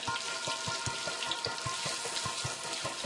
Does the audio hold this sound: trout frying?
yes